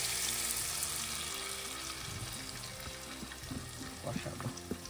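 Spice paste stir-fried with softened tomato for a paneer curry gives a wet, bubbling hiss. Louder stirring scrapes and splutters build toward the end.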